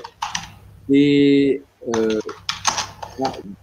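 Fast clicking of a computer keyboard close to the microphone, mixed in with a voice talking over it.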